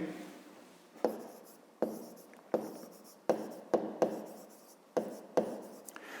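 A pen writes on paper during a fifth-grade maths exercise, making short scratchy strokes in an irregular rhythm, close and fairly quiet, with no talk.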